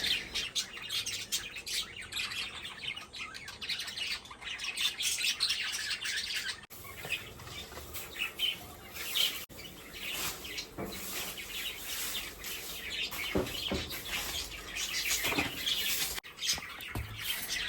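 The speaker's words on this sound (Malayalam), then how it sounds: "ഇതിൽ നിറയെ ഫിഞ്ചേഴ്സും അതുപോലെ തന്നെ ലവ് ബേർഡ്സും ഉണ്ട്" Many finches and lovebirds chirping and tweeting continuously in an aviary, with busy overlapping calls, occasional squawks and brief wing flutters.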